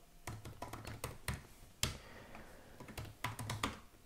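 Someone types an email on a computer keyboard, with quick bursts of crisp key taps, some pauses and a sharper keystroke in the middle, close and fairly quiet.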